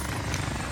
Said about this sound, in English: Mercenaries called in a supply chopper to offload their cash reserves.